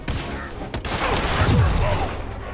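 A burst of gunfire in Marvel's Spider-Man, a sharp shot near the start followed by rumbling booms and mechanical clatter in a busy, dense action mix.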